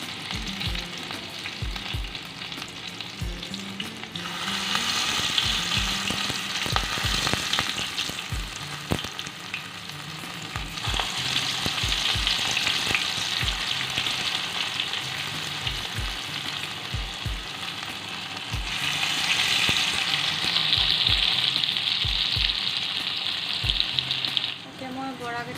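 Malabar spinach fritters frying in hot oil in a wok, a continuous crackling sizzle that swells and eases in waves, with regular soft knocks and stirring clatter throughout, no speech.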